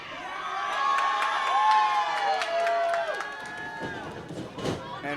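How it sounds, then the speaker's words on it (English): Crowd at a Ryse Wrestling match cheering and shouting, with whoops and whistles over a steady roar that swells and then eases off. "I think this crowd's getting under Holloway's skin a little bit."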